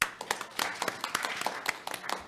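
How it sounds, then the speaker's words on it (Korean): Audience clapping at a National Assembly education forum, welcoming a professor to speak: a modest crowd with sharp individual claps audible within the steady patter, fairly close and loud throughout. "권순미 교수님 박수 모시겠습니다"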